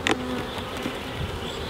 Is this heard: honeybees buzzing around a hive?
yes